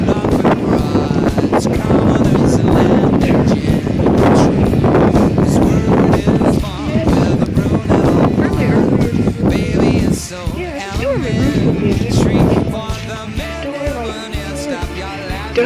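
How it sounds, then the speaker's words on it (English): Strong wind buffets a rooftop during a windstorm, roaring and gusting loudly into the microphone with rumbling bursts, while someone talks intermittently over it. "It's really windy."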